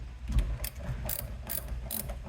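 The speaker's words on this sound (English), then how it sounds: "This is an 8mm socket, and I'm just going to take off the negative post." A hand ratchet with an 8mm socket loosens the negative battery terminal on a 1994 Chevy K1500, clicking in quick repeated bursts up close with no talk.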